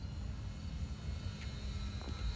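An E-Flite Pitts S-1S RC biplane, 850mm, on a 3S battery, flies with its electric motor droning steadily at a distance, a low continuous buzz swelling slightly as the throttle rises, over outdoor wind noise.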